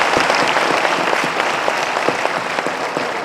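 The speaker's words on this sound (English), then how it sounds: "Ajay bhai, ladies and gentlemen, louder round of applause for Ajay Ji, please." Loud, close crowd applause for a guest at a stage event, steady dense clapping from many hands without pause.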